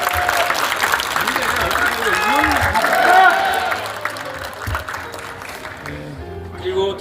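An audience in a concert hall at a book concert applauds in a sustained wave of clapping that swells midway and then fades, with an announcer's voice running over it.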